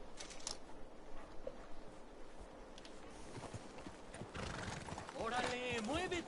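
Horse hooves clip-clop at a gallop in the video game Red Dead Redemption 2 over a busy game soundscape, and a whinny rises near the end as a voice speaks.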